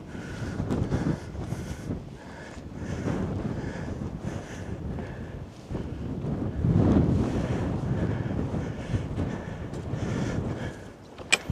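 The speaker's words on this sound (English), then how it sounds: "Wind's picking up a bit." Wind gusts buffet the microphone on a hill walk toward Shining Tor in the Peak District, a roaring, uneven rush that rises and falls in strong surges, loud and close, with no talking.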